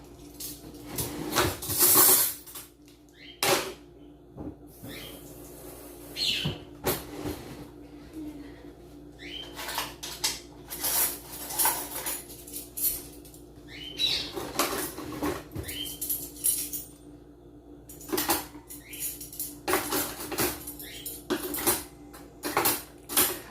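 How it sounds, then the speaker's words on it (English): Cutlery is gathered and put away in a home kitchen while housework goes on, giving scattered metallic clinks, rattles and clatters in irregular bursts at close range with quieter gaps between. "Cutlery away."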